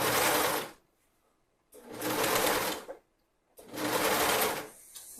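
Sewing machine stitching elastic onto swim bottoms in three steady bursts of fast whirring, separated by short pauses, close and clear with no talking.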